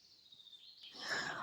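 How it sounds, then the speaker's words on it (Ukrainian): Birds chirp and sing in a forest during a mushroom-picking walk, a high thin call drawn out at first, then fuller, brighter song with rustling in the last half second, fairly faint. "Тихенько, слухай, як пташки співають."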